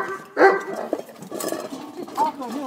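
Doberman puppies yip, whimper and bark in a busy cluster while they scramble for food, with a loud close yelp early on and a person talking over them throughout.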